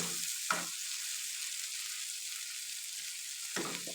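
Beef brain (maghaz) cooking in a pan, a quiet even sizzle with two brief spoon scrapes or presses near the start and end.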